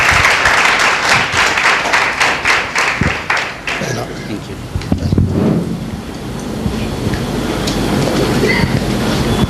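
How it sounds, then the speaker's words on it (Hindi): A church congregation claps for a welcome at a Sunday meeting, the applause loud and dense at first, then thinning into scattered claps with murmuring voices and room noise. "एक जोरदार ताली परमेश्वर की महिमा के लिए देंगे"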